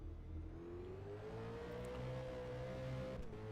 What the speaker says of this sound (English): you could just hear Bryce extending that accelerator